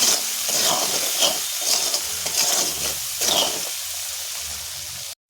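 Prawns being stirred with salt and turmeric, a close wet squelching and scraping that rises and falls in a few strokes against a faint hiss, then stops abruptly.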